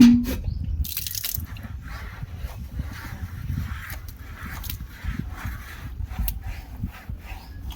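Water drips and splashes steadily while a dog is bathed with diluted shampoo, an irregular wet patter close by with occasional louder splashes and no talking.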